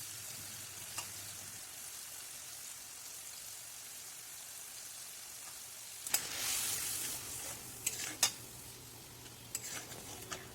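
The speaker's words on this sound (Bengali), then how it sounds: "টমেটো পেস্ট দিয়ে 1 মিনিট মতো নাড়াচাড়া করে নেব" Spiced tomato paste frying in oil in a kadai, a soft steady sizzle that swells into louder bubbling and spattering halfway through, with a few sharp scrapes of a stirring spoon.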